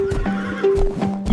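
A horse neighs and whinnies loudly with clip-clopping hooves, set in a cheerful Spanish children's song about toy ponies, with a bright musical tone running underneath.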